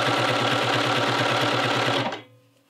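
A sewing machine stitches a stretched neckband onto a Hemlock knit shirt in a steady, fast, close mechanical whir that runs for about two seconds, then stops abruptly, leaving a faint fading hum.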